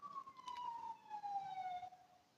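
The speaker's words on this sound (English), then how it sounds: "Do you hear the police cars?" Police car siren sweeping in a single long, slowly falling wail, fairly close and loud over low road rumble, then fading out as it moves off.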